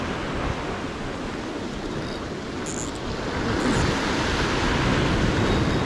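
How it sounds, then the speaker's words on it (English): Sea waves crash and wash in a broad, continuous roar close by on a UK coastline, swelling louder toward the end with no voices. "the waves are crashing around"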